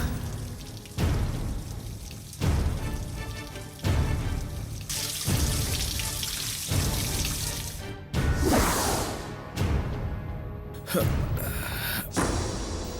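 Water runs and splashes continuously, with loud surging bursts every second or so, like a tap or shower filling a bath nearby.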